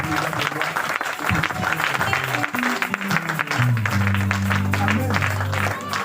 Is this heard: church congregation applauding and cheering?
yes